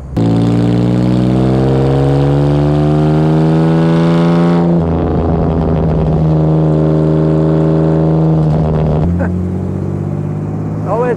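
A restored 1954 Jaguar XK 120 OTS roadster, its 180 hp straight engine, loud and close while driving, with a steady low drone that rises in pitch as it revs through the gears, with a shift and renewed pull partway through.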